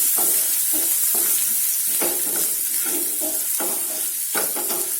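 Ginger-garlic paste frying in a pan, giving a constant bright sizzle close by. A spoon stirs it at a regular rhythm, scraping roughly every half second, and nobody talks.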